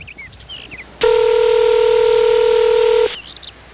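A mobile phone dialing a call sounds one loud, steady two-tone keypad beep held for about two seconds, preceded and followed by faint quiet room noise.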